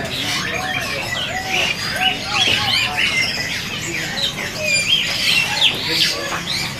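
A caged male orange-headed thrush sings and squawks at a busy bird market, loud, varied chirps and calls mixed with other birds, while people talk nearby.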